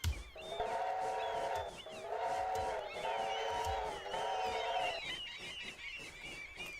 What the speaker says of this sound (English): Noisy seagulls.